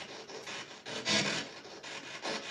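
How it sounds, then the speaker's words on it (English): Spirit box scanning noise from a PSB7 radio sweeping stations, a continuous choppy hiss of static broken into rapid bursts, moderately loud and alone. "the PSB7, that scanning noise does get to my brain after a while"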